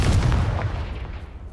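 A Confringo fire spell explodes in Hogwarts Legacy, a loud booming blast at the start whose low rumble slowly decays over the following second and a half, with no voices.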